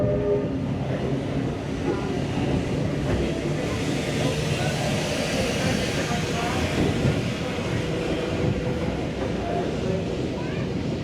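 Heritage trains in the Great Train Race in New South Wales give a continuous rumbling roar with rail clatter, steady and fairly loud throughout, with a voice speaking over it.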